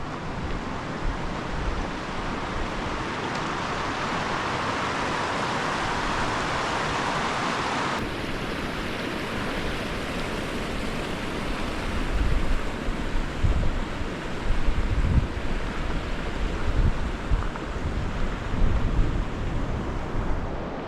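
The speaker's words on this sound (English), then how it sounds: "I believe what's called 4 Mile Creek right here." Four Mile Creek runs steadily near the old Leavick ghost town site in Colorado, a broad constant rush of water with gusts of wind and occasional low rumbles, with no talk over it.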